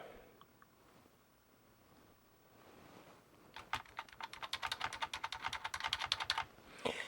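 Rapid typing on a computer keyboard being tested on a defective Amiga Denise setup, a dense burst of close, crisp key clicks following a few seconds of quiet room noise.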